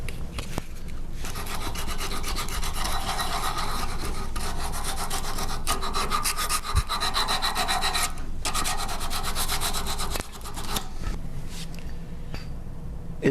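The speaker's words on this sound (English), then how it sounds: "Use the sanding blocks to sand your object after you've shaped them" A sanding block rubs by hand over a shaped object in continuous rapid back-and-forth strokes, a close, gritty rasp with a couple of brief pauses between runs.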